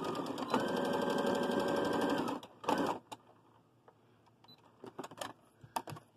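A sewing machine stitches an apron with a steady, continuous whirring hum for about two seconds. The machine stops, gives a brief second burst, then only scattered clicks and handling noises of the fabric follow.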